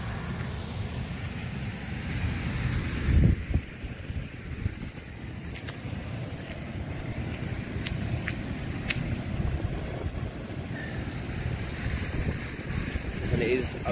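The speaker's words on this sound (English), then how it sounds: "We've got 12 hours of rain non-stop." Heavy, non-stop rain drums on a tent during a wild camp on Ovenden Moor, a dense continuous patter under gusting wind, with a few sharper taps scattered through.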